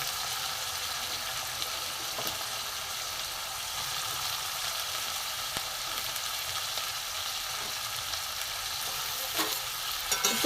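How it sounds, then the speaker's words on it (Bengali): Potato and carrot pieces frying in a pan for vegetable rolls, giving a steady, even hiss of oil with occasional faint stirring clicks, close and constant throughout. "আলুটা একটু ভালো করে ভেজে নেব আলু দিলাম এখানে গাজর দেবো"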